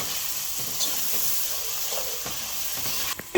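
Onions fry for beef biryani in a covered pot with salt added, a steady close hiss and sizzle running throughout, with a few soft clinks near the end.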